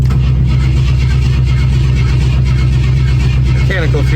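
A van's engine, just jump-started, runs loud and close with a steady, throbbing mechanical drone, and a voice comes through briefly near the end.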